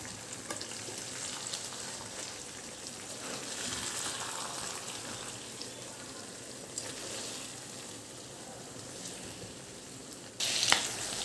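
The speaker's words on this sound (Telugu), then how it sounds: "ఇదిగోండి చక్కగా మీడియం ఫ్లేమ్ మీద నిదానంగా వేయించుకోవాలి లేదంటే మసాలా మాడిపోతుంది" Eggplant frying with masala in a pan over medium flame gives a steady, dense sizzle throughout, close and even, with a brief louder crackle near the end.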